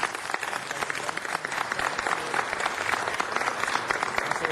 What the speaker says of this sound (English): Big round of applause, please, to Yvette King Berg.